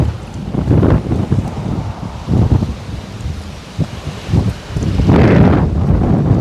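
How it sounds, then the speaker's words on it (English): Strong gusts of wind batter the microphone on an open golf course, swelling and easing in repeated loud rumbling bursts with no talk. "Gosh, it's getting windy."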